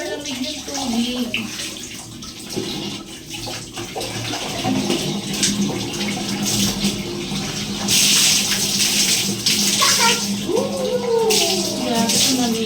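Cold water from a shower pours and splashes continuously, a loud, rushing spray that swells and shifts, while a person speaks over it.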